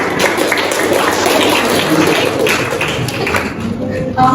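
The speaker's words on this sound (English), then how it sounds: "Give applause to Bunda." Classroom applause for a student, a dense, steady patter of many hands clapping at close range for several seconds, with faint voices underneath.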